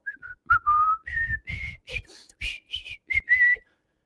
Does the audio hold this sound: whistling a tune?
yes